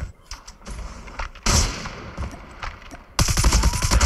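Gunfire in Call of Duty Mobile comes in loud bursts of rapid shots, with a sharp volley near the start, quieter scattered pops in between and a dense automatic burst at the end.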